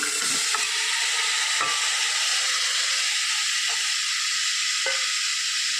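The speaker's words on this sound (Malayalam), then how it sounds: "എണ്ണ ചൂടായി വരുമ്പോഴേക്ക് നമ്മൾ ഈ കഴുകി വൃത്തിയാക്കി വെച്ചിരുന്ന ചേന ഇതിലേക്ക് ചേർത്ത് കൊടുക്കാം" Pieces of elephant foot yam fry in hot oil for a Kerala-style stir-fry, giving a steady loud sizzle and hiss with a few faint stirring clinks.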